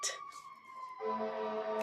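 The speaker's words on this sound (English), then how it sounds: "The siren, of course, had to go by while I'm recording." A siren wails in the distance, its pitch shifting between tones, fairly faint and briefly heard without talking.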